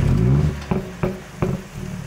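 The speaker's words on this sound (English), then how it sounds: "do the old AMG trick of the louder startup when you hold the pedal." Mercedes-AMG CLA45 S engine fires up with a loud startup while the pedal is held, a deep rumble followed by a few sharp burbling pops, close and alone.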